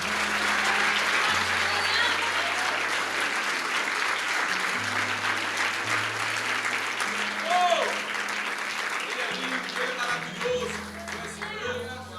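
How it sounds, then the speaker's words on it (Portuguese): A church congregation applauds steadily throughout, with sustained dense clapping and a low sustained organ or keyboard tones underneath. "Se você me entendeu, aplauda a Jesus Cristo"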